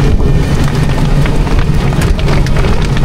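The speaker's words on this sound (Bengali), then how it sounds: "বাজারে যাচ্ছি আর বৃষ্টি শুরু হচ্ছে।" Rain falls in a loud, dense, constant hiss of drops pattering on surfaces outdoors, heard close and without pause for the whole stretch.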